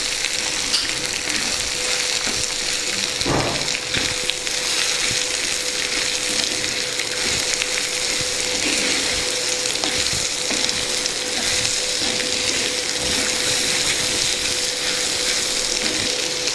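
Cluster beans fry in a pan with a steady, close sizzle that runs the whole time, broken by scraping stir strokes and a sharp clatter near the start; nobody speaks.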